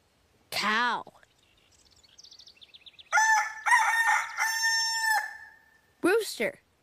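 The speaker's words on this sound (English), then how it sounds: "Rooster." A farmyard rooster crows loudly and near in a full, stretched cock-a-doodle-doo, with a thin bird call just before it. Short bursts of voice come before and after the crow.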